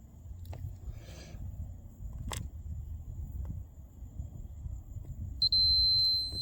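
A multimeter gives a sharp, steady continuity beep near the end while testing a fuse on a Terex backhoe, preceded by quiet handling clicks and low background hum.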